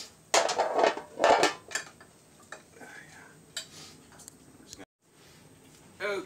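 Spoon scraping and clinking against a pot of tuna cheesy pasta on the stove, a few bursts of metallic stirring near the start, then quieter kitchen sounds.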